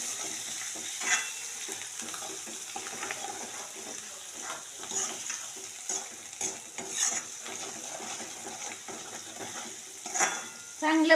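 Turmeric, salt, spices and finely chopped coriander fry in a pan for dhaba-style moong dal, giving a steady close sizzle broken by frequent scraping stirs and light spoon taps, no voices.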